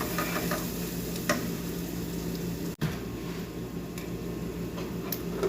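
Rice and onions cook over low heat in a steady, gentle sizzle, close and continuous, with a few faint ticks and taps.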